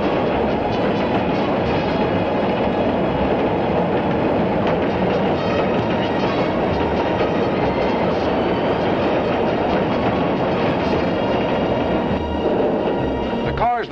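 An elevated train on the Third Avenue El in Manhattan rumbles past, loud and steady, with clattering wheels and a dense mechanical roar. A brief squeal comes near the end.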